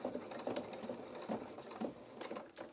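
A sewing machine stitches through the seam allowance of a small sailing anorak with a quick rhythmic whirring and needle chatter, moderately close, with no voices.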